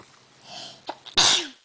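A single person sneezes nearby, with a sharp inhale building into a loud, explosive burst.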